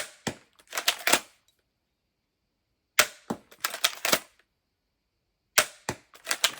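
SixNeedler crossbow fires three separate bursts about three seconds apart, each a sharp snap followed by quick rattling clicks, crisp and close in an otherwise quiet outdoor range at roughly 13 meters to the target.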